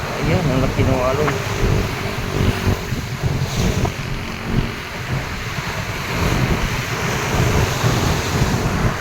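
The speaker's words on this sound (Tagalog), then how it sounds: "Ang taas talaga ng alon, no?" Big waves crashing along the seaside, a constant loud roar of surf and wind rumble on the microphone, with a voice speaking briefly over it.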